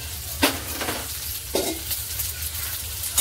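Taro root (arbi) pieces frying in oil with salt and turmeric, a steady close sizzle with a low hum beneath and a few sharp stirring scrapes of a spoon against the pan.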